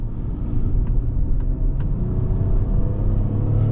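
Steady low rumble of road and engine noise inside a 2025 Acura MDX Technology driven at moderate speed, continuous and fairly loud with faint higher ticks above it, no talking.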